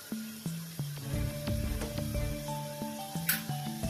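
Chilli, cumin and coriander powders sizzle and are stirred in a pan for Punjabi-style mutton curry, a continuous close frying hiss with scraping and clinking utensil sounds throughout.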